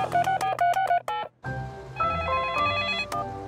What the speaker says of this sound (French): il faut appeler les services de secours